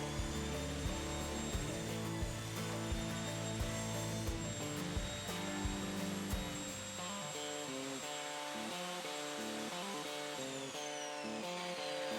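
Saw ripping an oak board along the fence for a coat rack build, a continuous steady machine whine with tonal hum, the cut's grinding texture fading partway as the blade runs on.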